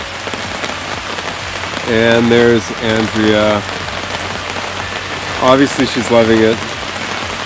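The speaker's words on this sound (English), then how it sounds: "For some reason it's July week, and it is just pouring." Heavy rain pours steadily onto surfaces at a lake campsite, a constant dense hiss, while someone talks over it in two short stretches.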